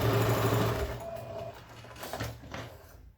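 A sewing machine stitches a shoulder bag strap in a steady whirring run that loudens at the start, eases back, then picks up again in short bursts, close by and without voices.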